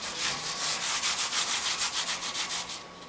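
Gloved hands rub oil into the rough surface of a cast iron grill grate for a Weber Genesis gas grill, a steady, close, rhythmic scrubbing with regular back-and-forth strokes, bright and hissy, with no talking.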